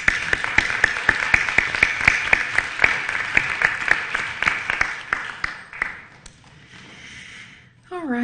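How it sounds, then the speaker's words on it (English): Clapping from an audience at a school board meeting for the parents, a brisk, moderately loud patter of hands with distinct individual claps that thins out and stops, followed by a voice. "Let's give a round of applause to all the parents."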